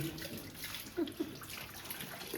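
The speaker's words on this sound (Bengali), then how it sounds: "ভাবছি জল পড়ছে" Water runs and splashes softly while someone washes their face, a faint continuous trickle with a couple of brief splashes, close by and without talking.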